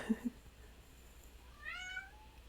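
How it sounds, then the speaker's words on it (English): A house cat meows indoors, a couple of short quiet chirps at the start followed by a longer, rising drawn-out meow, faint against a quiet room. "that's my cat. If you heard that"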